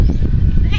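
A goat gives a short, loud, close bleat, a wavering low-pitched call with rough texture lasting under a second.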